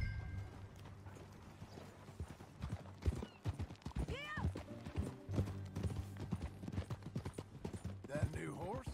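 Horse hooves clip-clop in a steady, uneven rhythm close by, with a couple of short whinnies and some muffled mechanical rattling in the background.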